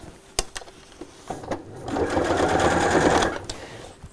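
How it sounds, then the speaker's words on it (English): Sewing machine stitching around the edge of a fabric tie-top tray, a steady close whirring run of about a second and a half after a few small clicks and handling taps. "pop this under the needle and we'll sew all around the edge"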